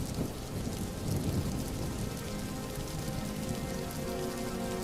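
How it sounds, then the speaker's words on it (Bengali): Heavy torrential monsoon rain pours steadily over a vegetable garden, a dense, loud, continuous hiss and patter with no voices. "এই মুষলধারে অঝোর বৃষ্টির মধ্যেও"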